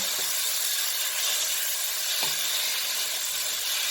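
Mushrooms and tomatoes cook in a pan for a mushroom biryani, giving a steady, faint sizzle and hiss with one soft stir or clink partway through, and no talking.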